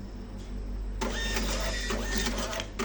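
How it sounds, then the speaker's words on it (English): Zonerich ZQ-A1190 receipt printer running off an order ticket: a close, steady mechanical whir and buzz of the print head and paper feed that starts abruptly and continues with a faint electrical hum beneath. "the printer will print out everything the customer ordered."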